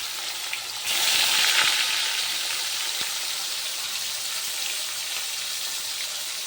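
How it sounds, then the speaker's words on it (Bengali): Fish rubbed with salt and turmeric hits hot oil and breaks into a steady, bright sizzle that holds evenly to the end, close and fairly loud, with no talk. "মাছগুলো রান্না হতে তো একটু দেরি হবে ততক্ষণ ভাজা হোক"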